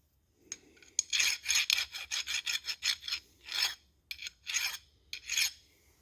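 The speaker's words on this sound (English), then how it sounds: "lightly sand it with some sandpaper. Just kind of polish up the threads a little bit." Fine 180-grit sandpaper is rubbed by hand over the threads of an aftermarket LS oil pan, giving close, loud rasping strokes in a steady back-and-forth rhythm, some short and quick and some longer, with no talk.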